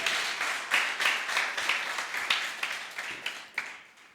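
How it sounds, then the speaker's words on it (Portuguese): A church congregation applauding the Lord, steady waves of many hands clapping at a moderate distance with rhythmic surges, filling the space without any talk over it. "Vocês podem aplaudir ao Senhor dessa forma que eu creio"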